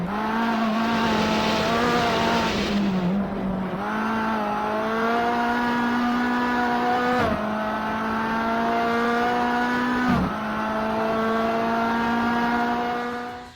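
A race car in Race Pro on Xbox 360 runs flat out with a loud, sustained engine whine, its pitch dipping sharply at two gear shifts before climbing again, with no voices over it.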